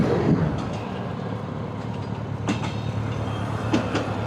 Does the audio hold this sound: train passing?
yes